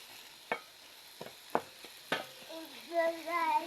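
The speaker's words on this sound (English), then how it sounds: "open your lid and stir your tomato and onion mix." A tomato and onion mix is stirred in a pot while cooking njahi (black bean) stew. A few distinct scraping strikes sound close up, followed by a wavering tonal hum near the end.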